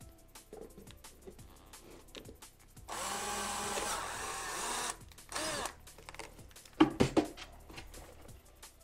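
Power screwdriver tightening screws to mount a bag on a Laotie electric scooter: one steady whirring burst of about two seconds, close, followed by clicks and handling knocks.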